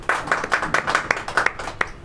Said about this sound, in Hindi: ये सब आप लोगों को इनके लिए तालियां होनी चाहिए।